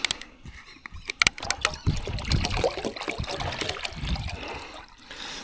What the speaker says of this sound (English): I'll pour a heap of vinegar in.